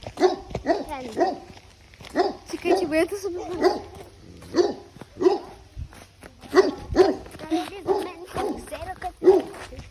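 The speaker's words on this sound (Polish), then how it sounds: "To jest jakiś pies" A dog barks repeatedly in short, sharp bursts, fairly close, while someone talks over it.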